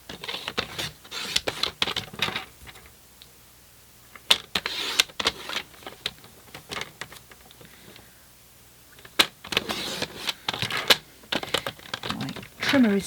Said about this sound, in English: My trimmer is snagging a little bit.